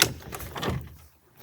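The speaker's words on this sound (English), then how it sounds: "so the wood trap door." A wooden trap door for loading firewood at an off-grid home opens with a short knock and a scraping, creaking slide, close and fairly soft, then fades to quiet.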